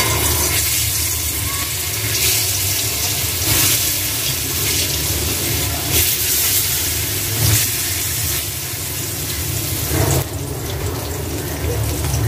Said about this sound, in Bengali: মাছটা একটু হালকা ভাজা নিব।